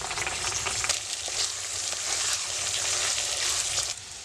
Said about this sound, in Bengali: শুটি আমার ভাজা হয়ে গেছে